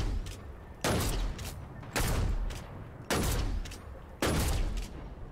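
Four sharp, loud sniper rifle shots in a video game, evenly spaced about a second apart, each a heavy boom with a short decaying tail, heard alone without talk.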